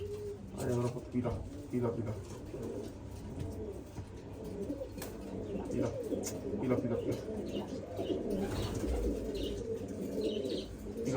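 Pigeons coo in low, repeated rolling calls with occasional chirps and wing flaps, close by, while people talk over them throughout.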